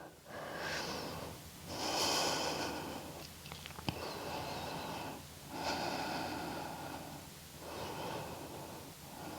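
Deep, audible breathing from a person holding a yoga pose in a session for hormonal balance, with several slow inhale-exhale cycles, some nasal and snort-like, close and steady with no talk.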